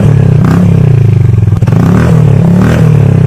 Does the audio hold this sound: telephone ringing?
no